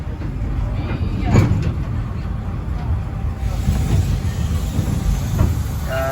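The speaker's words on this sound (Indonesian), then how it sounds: "Kereta Gold Mine" The Walhalla Gold Mine tourist train rumbles steadily up close with a constant low roar and occasional rail clacks, while people talk nearby.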